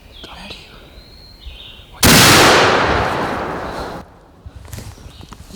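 A single loud, close gunshot rings out during a turkey hunt, a sharp broadband blast with a long decaying tail lasting about two seconds, followed by quieter outdoor ambience and faint rustling.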